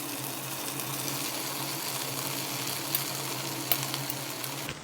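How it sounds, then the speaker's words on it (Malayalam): Chopped chapathi with tomato sauce is stirred in a pan, giving a soft continuous sizzle with faint scraping and occasional small clinks, at close range with no talking. "നല്ല രീതിയിലൊന്ന് ഇളക്കിയെടുക്കാം."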